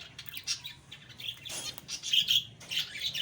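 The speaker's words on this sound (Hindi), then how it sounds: "एक ये बेचारी चिड़िया बीमार पड़ी हुई है यहाँ पे" A sick bird in a home garden gives short, high chirps in irregular bursts, close and fairly faint, with quiet gaps between calls and no voices.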